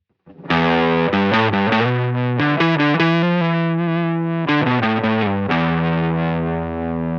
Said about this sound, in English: So distortion, this is what it sounds like at around about 12 o'clock.